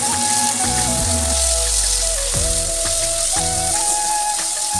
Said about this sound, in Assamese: পিঁয়াজখিনি ফ্ৰাই হোৱাৰ লগে লগে মই বিলাহী আৰু কেঁচা জলকীয়াখিনি দি দিছোঁ